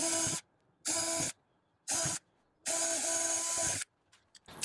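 A 3/32 drill bit bores mounting holes overhead for an Amcrest UltraHD 4K turret PoE camera mount, heard as four close, loud whirring bursts of uneven length separated by short pauses, with no talk.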